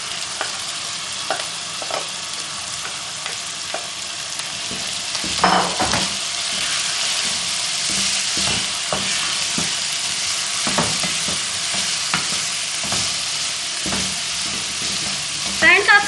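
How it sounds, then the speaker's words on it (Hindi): Minced keema sautés in a pan with onions, a continuous broad sizzle punctuated by repeated scraping stirs and occasional clatters of the spoon against the pan, close up and steady throughout, no one speaking. "अब ये कीमा ऐड करके मैं थोड़ा सा भूनूंगी।"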